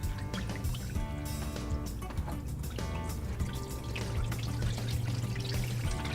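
Water pours and drips steadily onto a model parking lot to simulate rain, a continuous close-up trickling and splashing with a low hum underneath.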